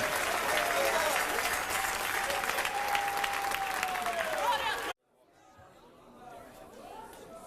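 Church congregation applauding during a sermon, loud clapping mixed with voices and cheering for about five seconds, then cutting abruptly to quieter crowd murmur.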